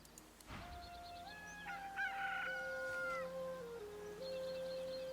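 A rooster crowing in the video game Divinity: Original Sin, with a long stepped crow and a second shorter call over a quiet game background.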